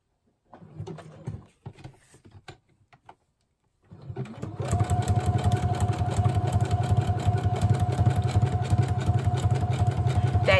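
A home sewing machine starts after a few seconds of light handling noises, then runs at full speed in a steady, fast mechanical whir close by until the end.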